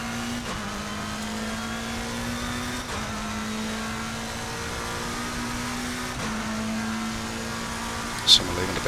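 Race car engine at Spa in Assetto Corsa Competizione, a sustained mid-pitched drone that drops and climbs again with each gear shift, ending on a short sharp blip.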